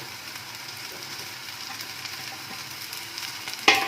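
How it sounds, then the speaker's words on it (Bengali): Boiled shredded chicken being stirred and mixed in a frying pan over a medium gas flame, giving a steady soft sizzle with a sharper clatter of the spoon near the end. "এটাকে ভালো করে নাড়াচাড়া করে নিচ্ছি, একসাথে মিক্স করে দিচ্ছি।"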